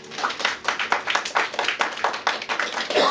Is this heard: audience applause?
yes